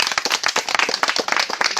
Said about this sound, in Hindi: सबे ताली मारवा प्रभु का महिमा लेंगे।